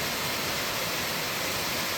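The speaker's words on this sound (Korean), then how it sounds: "특별보호구역의 첫 폭포인 치막폭포입니다." Steady broadband roar of a waterfall in Chilseon Valley on Jirisan, close and constant with no pauses or voices.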